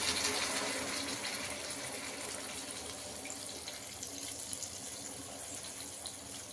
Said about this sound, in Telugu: ఇప్పుడు నేను ఫ్రెండ్స్ చింతపండు రసం పోస్తున్నాను ఫ్రెండ్స్.